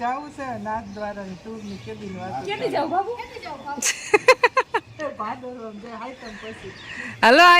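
Peacock calls ring out in a village on a morning, with a loud burst of repeated harsh cries in the middle and another near the end, heard under steady conversation.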